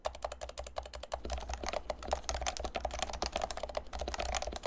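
Fast typing on an electro-capacitive keyboard with freshly lubricated switches and spacebar, a steady run of close, crisp keystrokes in a quick irregular rhythm, alone with no talk.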